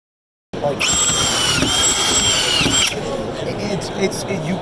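A SENCO power tool runs in one continuous close burst, a loud high-pitched whining drone that shifts slightly in pitch before tapering off, with rough background noise underneath.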